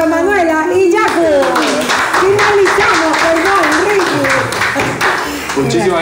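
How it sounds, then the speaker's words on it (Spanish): Audience applause for Manuela and Yaku at the close of an episode of a talk show, a steady wash of clapping with voices speaking over it throughout. "Un aplauso para Manuela y Yaku."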